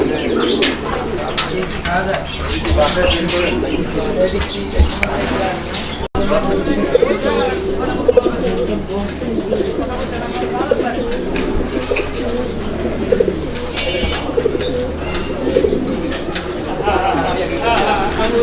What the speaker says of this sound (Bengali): তো দর্শক বন্ধুরা আপনারা দেখলেন খুব সুন্দর করে ডাকে